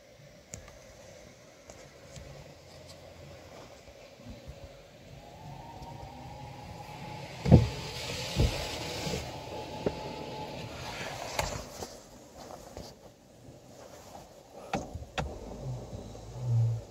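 Razor Edge automatic car wash working over a car from inside the cabin, with a steady wash hum and rising whir, scattered clicks and thumps of brushes and sprays, and a sharp knock partway through.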